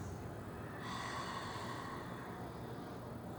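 Close, breathy inhaling and exhaling during an abdominal exercise, one long forceful breath rising and fading over a steady hiss, with no talking.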